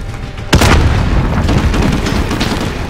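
A grenade detonates in Call of Duty Modern Warfare combat, one sudden heavy boom whose broad rumbling roar lingers and slowly fades over the following seconds.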